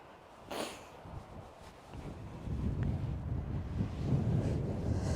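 Gusty wind buffets a microphone on a seaside golf course at Nefyn, Wales, rising into a stronger, steady rush in the second half, with brief louder gusts and no talk.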